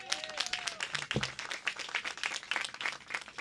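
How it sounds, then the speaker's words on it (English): Scattered applause from an outdoor ribbon-cutting crowd at a park and creek restoration project, fairly faint, with uneven individual claps and a brief tonal sound near the start. "Can we give her a round of applause?"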